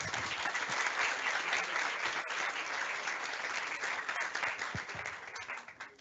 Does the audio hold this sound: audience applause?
yes